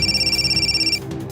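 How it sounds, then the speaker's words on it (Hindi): A telephone rings with a rapid, pulsing electronic trill for about a second and then stops, loud and close in an indoor room. "क्या यार, ये फोन सोने क्यों नहीं देता?"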